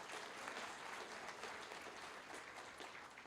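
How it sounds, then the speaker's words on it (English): Audience applause at a state finals awards ceremony on the University of Idaho campus, a steady wash of clapping that is fairly distant and quiet, with no talk over it. "So big round of applause for Go Vandals."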